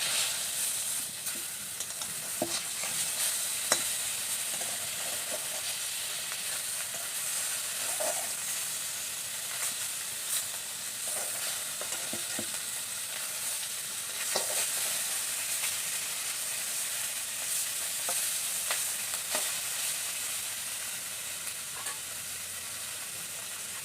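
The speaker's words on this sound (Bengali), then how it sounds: "এখন আমি মাছগুলিকে উল্টিয়ে দেব।" Fish frying in salted oil in a wok, four pieces being turned over, with a steady broad sizzle and occasional clinks and scrapes of a spatula, close and continuous without speech.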